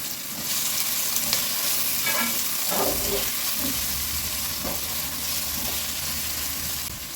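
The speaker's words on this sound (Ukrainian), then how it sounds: "Буквально стільки, щоб можна було просмажити цибульку." Onion sizzles steadily in oil in a pan as it fries, with occasional scraping stirs, close and continuous without talking.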